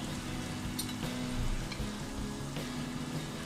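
Masala spices are added to a pan of mashed tomato while cooking masala avalakki, and they sizzle and crackle loudly and continuously, with scattered scraping and stirring knocks throughout.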